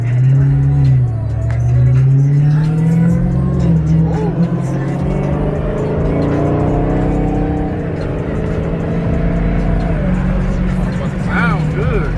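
A Dodge Demon engine revs loudly and close by with a deep, sustained roar that climbs and settles over about 12 seconds, while people talk over it.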